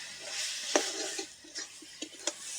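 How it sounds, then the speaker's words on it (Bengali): Chicken scraps are stirred in a pot with the lid off, a few soft scraping strokes and light clinks over a faint sizzle, close and quiet. "এবার চাপা তুলে নেব নেড়ে নেবো"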